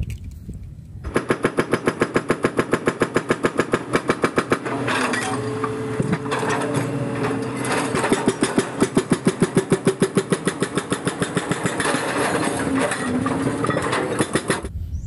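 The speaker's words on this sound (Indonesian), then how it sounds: "lihat di sini ada ekskavator pemecah batu" A rock breaker excavator's hydraulic hammer pounds in fast, loud, steady bursts over its running engine, the rapid blows repeating in long runs with short pauses between.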